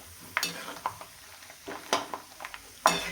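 Ginger or garlic frying in a pan over lowered gas: a soft sizzle under intermittent spatula scrapes and taps, close and fairly quiet, with no talking.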